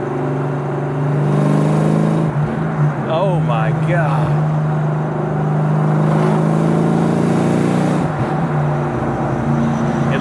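A supercharged 2003 Ford Cobra engine revs hard and pulls strongly, its pitch climbing in quick sweeps between gear changes, while a person exclaims partway through.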